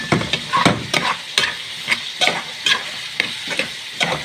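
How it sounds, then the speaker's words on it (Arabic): Soaked basmati rice is stirred with a spoon in hot oil and ghee, with repeated scraping strokes in an irregular rhythm over a soft close sizzle. "هفضل احور فيه مع الزيت والسمنه"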